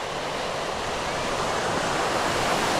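Rough sea off the coast of Chukotka in the Arctic surges in a steady, loud roar of surf and wind, with no pause or let-up.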